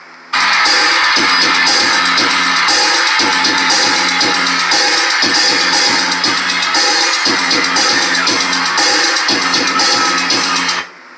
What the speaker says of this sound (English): That's electronic drums, not acoustic drums.